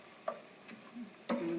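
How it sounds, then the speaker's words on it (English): A seafood risotto with calamari, shrimp and clams is stirred in a scratched, discolored Cuisinart pan. Low sizzling runs under two distinct scraping stirs, one soft and one louder, close by with no talking. "could you see the way it's sizzling on the sides?"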